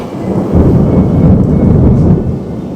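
A deep, steady rumble of thunder rolls on for a few seconds over the hiss of falling rain, loud and close.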